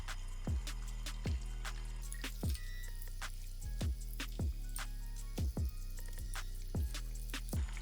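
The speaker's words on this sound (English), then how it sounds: "All I do next is just cold water and gently just wash the gel off." Makeup brushes rinsed under cold running water to wash off gel, a quiet steady trickle with regular soft drips and squishy splashes repeating roughly every half second to second, close up and without voices.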